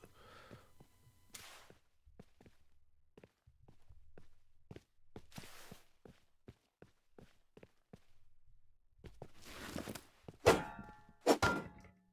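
Footsteps in the mobile survival game Rust Mobile, a run of quiet, evenly spaced steps with scattered clanks and thuds, rising to a few loud bangs near the end.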